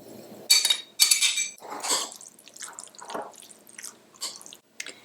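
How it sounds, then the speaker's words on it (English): Pomegranate seeds stirred into cooled spinach stuffing for fatayer spinach pies, giving a string of close, moist clicks and wet scrapes in several bursts with short pauses between them. "we're going to take our pomegranate seeds, if you have them, and mix them in."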